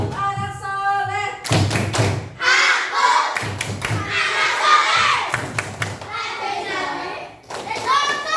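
Fourth-grade pupils in a classroom perform the 'tepuk anak soleh' clapping chant, loud children's sung voices punctuated by synchronized claps and thuds in a repeating pattern.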